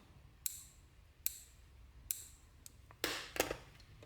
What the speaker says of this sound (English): so I'm going to use a pair of scissors